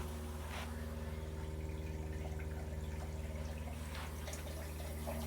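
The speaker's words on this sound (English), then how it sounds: "the pump just turned on" Small electric water pump running at the sink of an off-grid solar cabin, a steady low hum with a pulsing rhythm, quiet and close, joined by faint trickling water and no talking.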